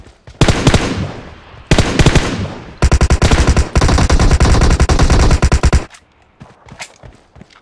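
Bursts of automatic gunfire from the battle game PUBG Mobile, loud and close: two short rattling volleys, then a long sustained stream of rapid shots that cuts off into quieter game ambience.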